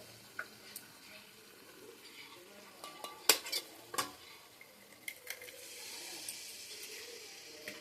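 Egg frying in a pan for egg chowmein, heard as a faint, distant sizzle with scattered utensil clinks and one sharp metallic tap, rising to a soft steady hiss near the end.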